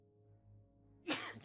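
A single sharp sneeze bursts out indoors near a microscope setup after a second of quiet room hum, loud and close, with a brief trailing exhale.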